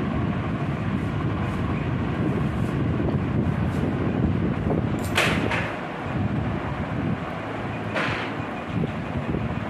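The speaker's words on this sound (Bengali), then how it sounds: "হাওয়া দিচ্ছে তো।" Strong wind from Cyclone Remal roars as a steady, dense rush close to the microphone, broken by a couple of brief sharper gusts or rattles, with no talking.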